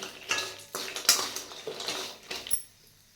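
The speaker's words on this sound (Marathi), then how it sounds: "आता ह्या दालचिनीत दोन चमचे तेल घालायचं आणि दालचिनी पण वास येईपर्यंत भाजून घ्यायची" Cinnamon sticks roasting in two spoonfuls of oil in a pan for a Satara-style ghati masala, heard as close scraping and clinking of a utensil against the pan with faint sizzle, irregular strokes fading out at the end.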